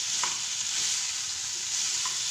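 Salt being stirred into tomato and ginger paste in a pan, a constant close sizzle with a couple of soft utensil scrapes over about two seconds, no voices.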